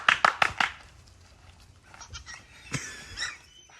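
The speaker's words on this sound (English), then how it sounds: "Goats with the fainting trait are called myotonic goats" A myotonic fainting goat bleats in a quick burst of several loud, close cries, followed by fainter, scattered calls and rustling.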